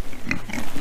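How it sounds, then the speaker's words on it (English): Pigs grunt close by on a farm, with several short nasal grunts in quick succession over a noisy outdoor background. "Here's where we've moved the pigs"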